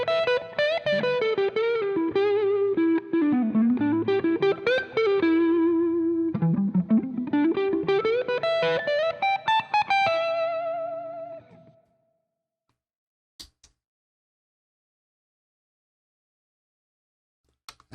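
Electric guitar with light distortion, played with a thin gray Dunlop pick on the bridge pickup, ringing out a melodic run of sustained notes for about twelve seconds before fading, then two faint clicks in near silence.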